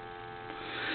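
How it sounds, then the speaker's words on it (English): A steady telephone dial tone hums continuously on a Western Electric 3-slot payphone line, faint and even, alone with no talk. "Probably hear that dial tone."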